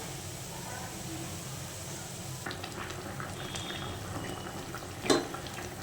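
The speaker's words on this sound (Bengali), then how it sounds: "পাবদা মাছের হালকা পাতলা ঝাল একদম রেডি হয়ে যাবে। চলো একটু ফুটে নিই।" Pabda fish curry simmers and boils in a pot, a steady low bubbling hiss throughout with a few faint clinks and one brief louder knock near the end.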